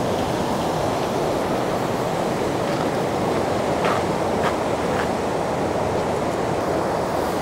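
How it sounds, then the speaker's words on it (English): Water rushing steadily over a river weir in Aranjuez, Spain, a loud, continuous broadband roar of falling water that stays even throughout, with no talk over it. "Some sort of waterfall that we're heading towards now."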